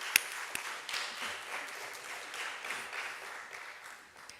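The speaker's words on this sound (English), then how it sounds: "can we give them a really big round of applause and appreciation?" A graduation ceremony audience applauds in a steady, broad wash of clapping that holds at an even level for several seconds, with a few sharper individual claps standing out.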